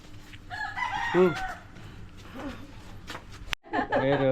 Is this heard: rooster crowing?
yes